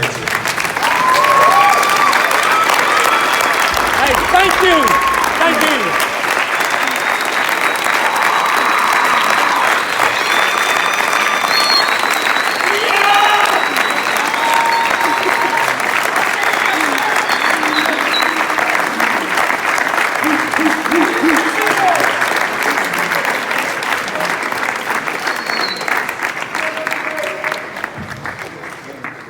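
A large crowd gives a sustained round of applause and some cheering for a coach at a ceremony, dense and steady throughout, while someone briefly says thanks over it.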